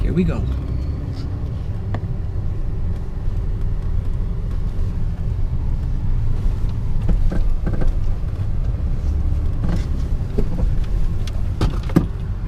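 A car pulls out and drives off, heard from inside the cabin as a steady low road rumble with occasional knocks and rattles from handheld movement, while a voice talks over it throughout.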